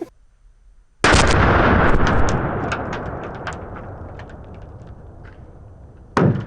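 .30-06 rifle fired with a full metal jacket bullet into ballistics gel, one loud close blast followed by a long decaying rumble and echo, then the start of another sharp report at the end.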